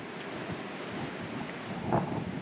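Steady gusting wind rumbles and hisses continuously in the Spanish mountains, with a slightly stronger gust near the end and no voices.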